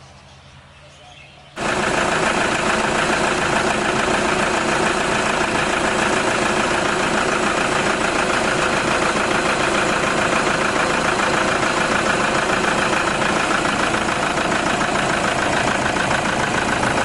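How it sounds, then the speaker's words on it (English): After a short quiet start, a pickup truck engine idles loudly and steadily, a constant rumbling drone with no change in pace. "It's just sitting there idling."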